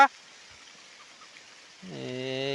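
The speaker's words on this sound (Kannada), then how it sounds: "ಮಳೆ ಬೀಳ್ತೈತೆ" Rain falls as a faint, even hiss, opening with a brief sharp knock and ending with a drawn-out voiced call over the patter.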